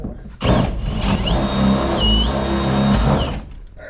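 A power drill bores through a mounting spot for a turnbuckle, giving a close, loud whine of about three seconds whose pitch dips briefly partway through before the motor winds down.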